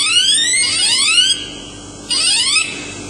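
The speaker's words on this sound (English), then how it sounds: "I've got the buzzer, which comes with the indicators, standard issue with the control panel" A bicycle's electronic buzzer, built into its indicator control panel, sounds in two bursts of rising, sweeping tones, loud and close, with a short gap between them and no talking.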